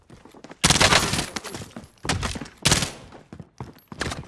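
Bursts of gunfire in a battle royale video game: two loud, dense volleys with a pause between, followed by scattered shorter shots, close and sharp with no talking over them.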